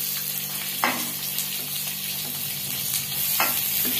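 Chopped onions with peanuts sauté in hot oil for aval upma, giving a steady soft sizzle with a few scraping stirs of the spoon spaced through it, close and moderately quiet, with no talking.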